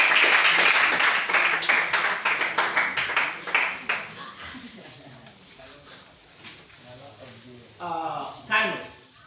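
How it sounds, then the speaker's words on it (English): Audience at a table tennis club quiz round claps loudly in a dense burst that thins out over several seconds, with voices talking as it fades. "Clap for them."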